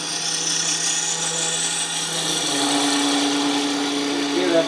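A wood lathe spins a workpiece while a 3/8 inch gouge cuts it, a steady close whirring hum with a rising tone and scraping texture partway through, and a voice talks over it.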